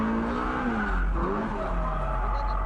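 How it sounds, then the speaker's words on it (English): A drift car skids and loses control, tires squealing loudly and continuously over a strained, revving engine, close and sustained throughout. "my car just lost control"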